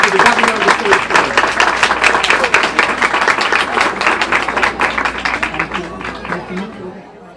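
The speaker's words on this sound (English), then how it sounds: "Let's give a large round of applause to the governor of the state of Florida." An audience at a Chabad Hallandale Chanukah celebration in 2014 applauds the governor of Florida with loud, dense clapping mixed with crowd chatter, which tapers off near the end.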